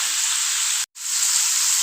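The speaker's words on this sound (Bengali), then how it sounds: "তেল দিয়ে ইলিশ মাছগুলোকে হালকা নুন হলুদ মেখে ভেজে নেব" Hilsa fish pieces rubbed with salt and turmeric fry in hot oil with a loud, steady, close sizzle that drops out for a moment midway, then resumes.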